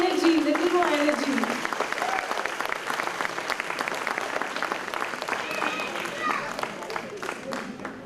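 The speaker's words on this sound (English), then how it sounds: "Once again, a huge round of applause." Audience applause at a children's annual day function, loud sustained clapping from a large crowd that fills the whole stretch, with a voice briefly audible at the start.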